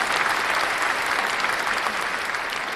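Steady applause from a crowd, a dense wash of clapping that holds evenly throughout at moderate loudness with no voices.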